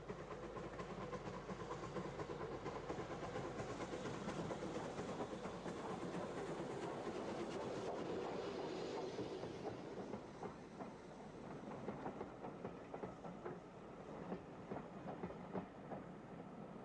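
A rebuilt Merchant Navy Pacific steam locomotive rumbles steadily past hauling Pullman carriages, with rhythmic clickety-clack of wheels on rails, a continuous heavy roar that eases slightly toward the end.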